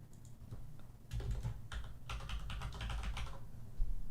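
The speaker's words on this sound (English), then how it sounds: "I was typing in a notepad." Rapid, light clicking of a computer keyboard as someone types into a notepad, a burst of quick keystrokes close by with brief pauses.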